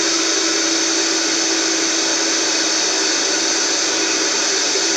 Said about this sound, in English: This is a high-powered blender. This is called a Vitamix.